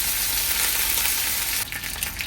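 Curry leaves sizzle as they drop into hot oil with popping mustard seeds in a pan, a loud continuous crackling fry with a brief shift in texture near the end, no voices.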